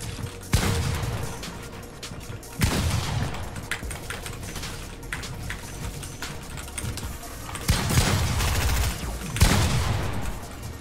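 Players trade gunfire in a Fortnite 1v1 build fight: rapid volleys of shots in several distinct clusters, each a loud burst of crackling fire separated by quieter clicking pauses.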